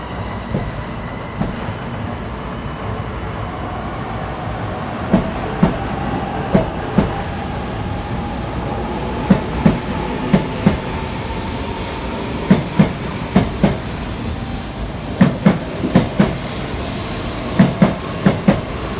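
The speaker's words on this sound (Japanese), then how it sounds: "20番線から列車が動きます" A double-decker E4 Shinkansen departs Tokyo Station, wheels clicking rhythmically over rail joints with a low rumble, the clacks growing more frequent as it picks up pace.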